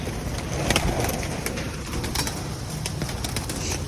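Birds cooing steadily and close by, soft repeated calls over a constant background hiss with occasional faint rustles.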